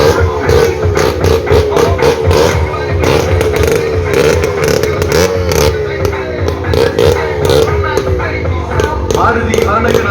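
Motorcycles roaring around the wall of a well of death at a Maruti motorcycle circus, with loud, continuous engine drone and repeated revving surges mixed with clattering crowd noise.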